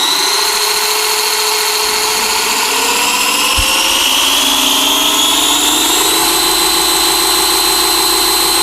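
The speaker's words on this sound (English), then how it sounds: "Let's give it a little bit of throttle here and see what we're dealing with." Brushed electric motor of a Haiboxing Survivor MT 1:12 monster truck winds up at full throttle with a loud, continuous high whine. The pitch climbs steadily throughout, and nobody talks over it.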